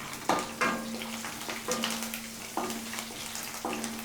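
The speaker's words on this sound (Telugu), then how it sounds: "ఈ ఆవాలు కొంచెం చిటపటాన్నిచ్చి దీంట్లోనే ఈ వెల్లుల్లి రెమ్మలు ఇలా చిదిమి వేసుకోండి" Mustard seeds spatter in hot oil with crushed garlic cloves for mamidikaya pappu, a steady close sizzle broken by several sharp crackling bursts and pops at irregular intervals.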